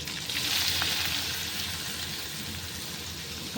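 Mustard seeds and fenugreek fry in hot oil with a steady, even sizzle that continues unbroken and close throughout.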